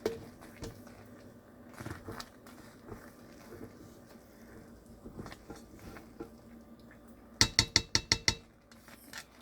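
Rice being stirred in a cooking pot, with scattered soft clinks and scrapes of a utensil against the pot and then a quick burst of sharp metallic taps near the end, all faint and close.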